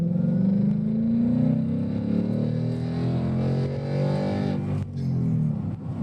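A 2021 Mustang's 5.0 V8 revs up hard on a back road, with a loud, throaty drone rising and holding steady before a brief dip near the end.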